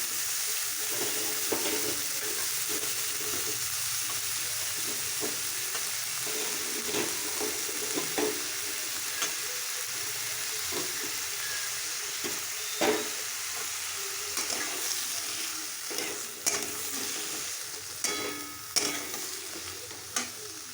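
Vegetables fry steadily in a pan as ingredients for spicy semolina upma, with a continuous broad sizzle broken by scattered stirring scrapes and clicks, close and moderately loud, with no talking.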